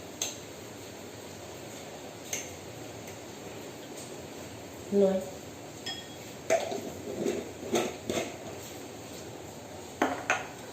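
A spoon clinks against a bowl while milk powder is measured in, with scattered light taps and a few brighter metallic chinks over quiet room tone.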